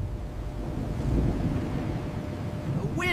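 Cartoon wind gusts in a steady low rushing roar, fairly loud and continuous, with a brief higher sound breaking in at the very end.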